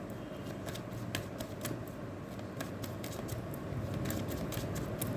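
Tarot cards are shuffled by hand in a steady run of soft riffling flicks and snaps, close but quiet over a hissy background.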